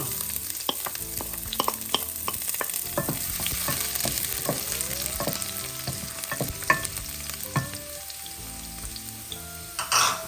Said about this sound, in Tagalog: umpisa na natin ang paggigisa. Ito, bawang.